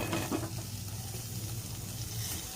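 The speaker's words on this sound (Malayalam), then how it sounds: "ഇനി ഇതിലേക്ക് നമുക്ക് നേരത്തെ കോളിഫ്ലവർ വേവിച്ച് വെച്ചിട്ടില്ലേ അത് നമുക്ക് മുഴുവനായിട്ട് ഇതിൽ ഇട്ട് കൊടുക്കാം" Boiled cauliflower dropped into hot oil in a pan for a cauliflower curry, giving a soft continuous sizzle and frying crackle with a little stirring, faint and without talk.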